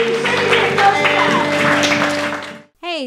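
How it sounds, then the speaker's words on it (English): A church congregation claps hands in praise, a dense, steady wash of applause held for about two and a half seconds before stopping, with organ or keyboard tones sustained underneath and a brief voice after. "Give God a hand clap of praise."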